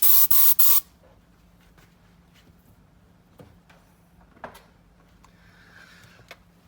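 A short burst of aerosol spray applies a final even coating to Range Rover leather interior, three quick hissing pulses up close, followed by quiet room tone and faint small clicks.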